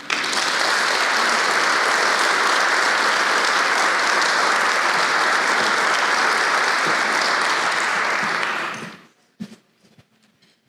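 A large audience at a city State of the City event claps loudly and steadily for about nine seconds, then the applause cuts off abruptly into near silence with a few faint knocks.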